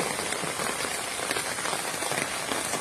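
Heavy rain pours down on a garden with rubber tree plants, a dense, continuous hiss of drops drumming on leaves and surfaces, close and steady without any voices.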